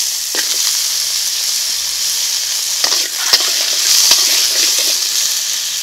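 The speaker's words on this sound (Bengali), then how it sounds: "দিয়েছি কিছু কালো সরিষা" Black mustard seeds sizzle in hot mustard oil in a wok, a loud, steady hiss dotted with sharp popping crackles, heard up close with no voices.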